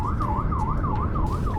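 A police motorcycle siren wails loud and close during a pursuit of a delivery motorbike on a city road, its pitch rising and falling in rapid, even cycles over steady traffic rumble.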